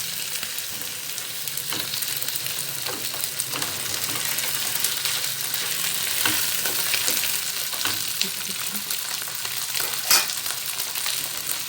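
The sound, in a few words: fish frying with onion and garlic in an open pan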